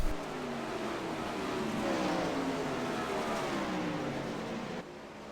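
A pack of 410 winged sprint cars roars through turns 3 and 4 at Lanier, with a continuous loud engine drone whose pitch rises and falls across the passing field before a slight drop at the end.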